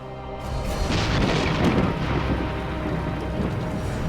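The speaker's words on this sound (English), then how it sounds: "heavy rain has hit the Fraser Valley" Heavy rain pours down in a steady, loud downpour in Chilliwack in British Columbia's Fraser Valley, with rolling thunder rumbling underneath throughout.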